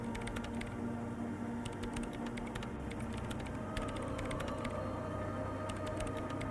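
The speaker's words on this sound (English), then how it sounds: "her hands typing hundreds of commands into the machine" Rapid clicking of computer keyboard typing in the game Disco Elysium: The Final Cut, coming in bursts of dense keystrokes over a steady low hum, with short pauses between runs.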